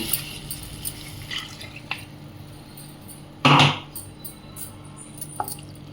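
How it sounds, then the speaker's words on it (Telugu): A short splash of water poured into mushroom curry gravy in a pan, lasting about a quarter second, with a few faint drips and quiet kitchen noise around it. "మనం ఇప్పుడు ఈ గ్రేవీకి తగ్గట్టు వాటర్ యాడ్ చేసుకుందాము"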